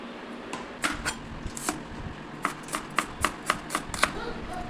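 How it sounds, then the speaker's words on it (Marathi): Knife chopping onions and tomatoes on a cutting board, about a dozen crisp close taps in irregular bursts, clustered near the end, over a quiet kitchen background. "तर सगळ्यात पहिली कांदे कापून घेऊया आणि टोमॅटो पण कापून घेऊया."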